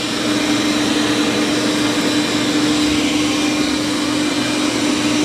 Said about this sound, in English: now it does a good job of vacuuming